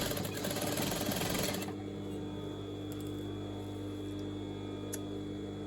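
An overlocker sewing machine stitches dress fabric with a loud, rapid mechanical whir close by for the first couple of seconds, then stops, leaving a lower steady hum and a few faint clicks.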